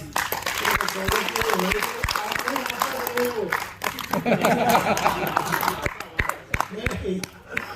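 Scattered clapping from a crowd at a journalists' rally in Bhopal rises and falls while voices talk and chatter throughout.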